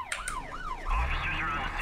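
Police car siren in the video game Thief Simulator 2, a wailing rising-and-falling tone sweeping repeatedly, fairly close over a low engine rumble.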